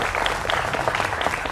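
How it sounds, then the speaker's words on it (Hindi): Studio audience applause welcomes guests on a televised election debate show, a steady burst of close, even clapping. "तो जोरदार तालियों के साथ हमारे यहां पर युवा मित्रों का अभिनंदन है।"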